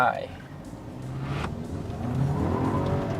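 A BMW 220i Gran Coupe M Sport in sport mode pulls hard from standstill toward 100 km/h, its engine droning and rising steadily from inside the cabin, with a brief voice at the start.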